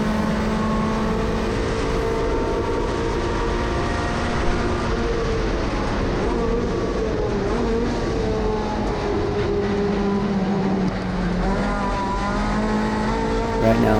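Honda CRX race car at full throttle in an SCCA Majors race at Auto Club Speedway, its engine droning steadily and loudly from onboard, with tire and road roar underneath and no break in the sound.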